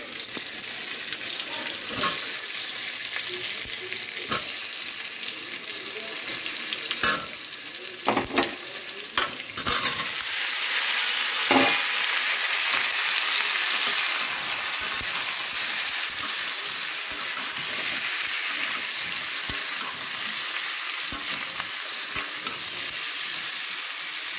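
Boiled potatoes fry with tomatoes in a wok, a continuous loud sizzle punctuated by sharp scraping and clattering stirs in the first half, then steadier frying.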